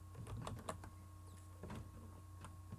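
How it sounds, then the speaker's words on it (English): Scattered keystrokes on a computer keyboard, a few quiet irregular clicks over a low steady electrical hum, with no talking. "I'm typing."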